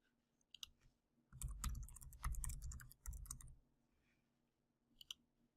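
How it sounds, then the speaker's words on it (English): A computer mouse clicks a button in office software, with faint isolated clicks early and late around a denser clattering burst in the middle, quiet and close, with no voices. "I'll start by clicking the New Report button."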